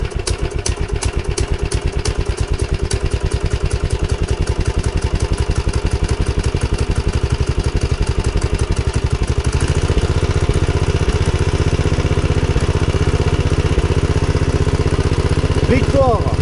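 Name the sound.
1980s golf mower engine starting and idling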